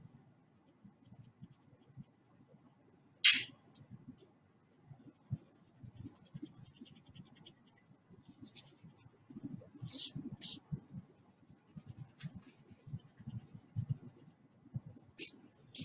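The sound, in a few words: erasing pencil lines on paper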